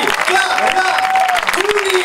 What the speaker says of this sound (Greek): μεγάλο, μεγάλο, μεγάλο χειροκρότημα